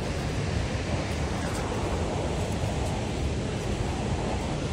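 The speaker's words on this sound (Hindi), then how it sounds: "भाई पूरा चलने के बाद ये देखो मेरे पीछे वाटरफॉल।" A waterfall dropping far down a rocky slope along an off-road trail, heard as a steady, dense roar of rushing water that continues without a break throughout.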